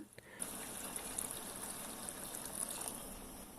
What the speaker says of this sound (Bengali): এখন আমি গরম পানি দিয়ে দিব সাড়ে সাত কাপ পরিমাণ